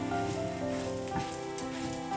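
Food frying in a pan during home cooking, giving a constant close sizzle under tonal background music with no pauses.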